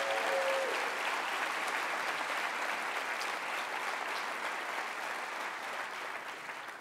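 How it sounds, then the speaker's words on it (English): Steady applause from a theater audience at Cleveland's State of the City address honors the Illegal Dumping Task Force, an even, moderately distant wash of many clapping hands that fades slightly near the end. "Let's give them a round of applause if we can."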